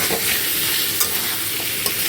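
Vegetable stems, potato and bitter gourd stir-fried in a pan, giving a dense continuous sizzle with a couple of faint utensil scrapes.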